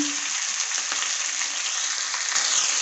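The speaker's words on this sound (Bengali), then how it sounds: "ভালো করে ভেজে নেব" Taro stolons sizzle and fry in a pan with salt, a dense, steady crackling hiss throughout with small stirring bumps and no voices.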